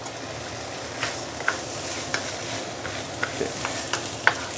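Rice and cabbage stir-fried in flavored oil with a pinch of salt and white pepper: a steady close sizzle with regular spatula scrapes and taps against the pan.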